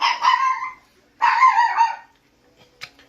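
A dog barks at a neighbor in two sharp, loud barks about a second apart, then a quieter short yip follows after a pause, against an otherwise quiet room.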